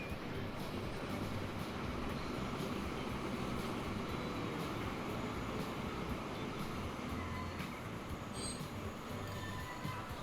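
Video game trains in Transport Fever 2 rumble steadily along the tracks, a continuous dense roar of wheels and rolling stock with faint high squeals, no talking.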